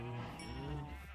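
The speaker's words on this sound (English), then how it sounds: "And then just getting sheep going for black wool." A sheep on a Minecraft farm bleats once, a short wavering cry, faint and low in level, heard alone.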